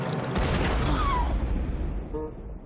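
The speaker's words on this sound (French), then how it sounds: "Une terrible explosion." A cartoon explosion bursts with a heavy booming blast and crackling debris, followed by a descending whistle-like tone and a fading rumble, fairly loud and alone.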